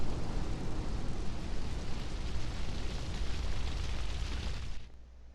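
Massive explosion on a bridge in Grand Theft Auto 3, a broad roaring rumble of blast and debris sustained for several seconds before cutting off abruptly, heard alone without talking.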